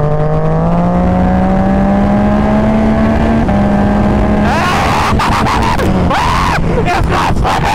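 A car engine is revved hard during a clutch slip test, a loud steady drone climbing in pitch, then a harsh rasping surge with shouting voices over it.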